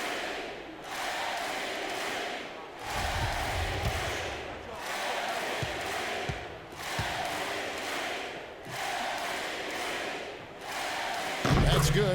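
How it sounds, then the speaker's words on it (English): Video game arena crowd of Toronto Raptors fans in NBA 2K15 basketball, roaring in repeated swelling waves of cheering with short lulls between, a few thuds and a quick tone at the end. "Y'all hear that Toronto Raptors crowd?"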